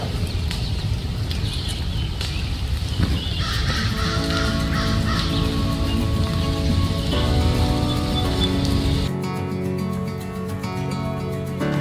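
A crow caws repeatedly outdoors near a backyard chicken coop, harsh calls ringing out over a continuous busy background of other noise, with the calls thinning out toward the end.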